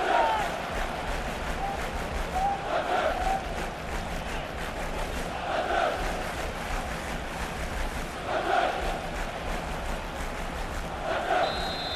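Stadium crowd in the FIFA 17 football game roaring after a goal: a dense, continuous wash of distant cheering and chanting that swells periodically, steady and moderately loud throughout.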